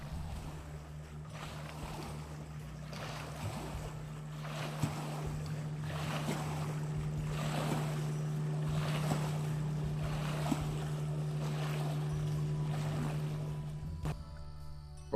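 A motor boat's steady engine drone carries over open lake water at Restoule Provincial Park, mixed with wind rumble and lapping waves throughout.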